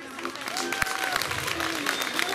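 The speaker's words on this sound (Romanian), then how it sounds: "Haideți să-i aplaudăm!" Applause from an outdoor folk festival audience, with scattered clapping mixed with crowd murmur, a brief tonal sound and some speech in the background.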